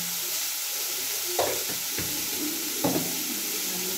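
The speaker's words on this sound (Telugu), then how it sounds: "కలిపేస్తున్నా" Vegetable rice being stirred in a hot pan, with a steady sizzle and frying hiss throughout and a couple of sharper scraping strokes of the spoon, fairly close and without talk.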